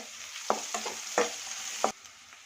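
Chopped onions and green chilli fry in a pan with a soft, constant sizzle, broken by four or five quick scraping stirs close by.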